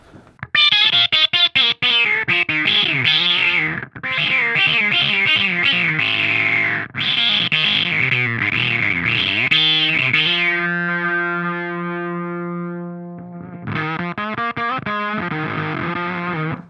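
A distorted electric guitar plays through a sweeping filter effect, with wah-like vowel tones on choppy phrases, then a long sustained chord before the riffing returns.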